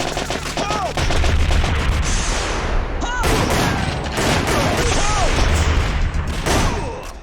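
Rapid gunfire from the PS1 light-gun shooter Time Crisis crackles almost continuously at steady loudness, with dense overlapping shots and short bursts packed together for several seconds.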